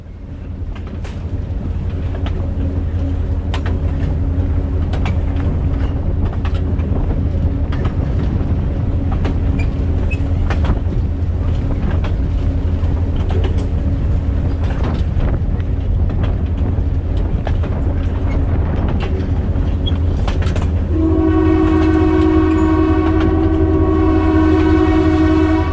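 Excursion train on the Alberta Prairie Railway rolls over jointed rail with a steady loud rumble and rhythmic clatter, then its horn sounds a long, strong blast near the end.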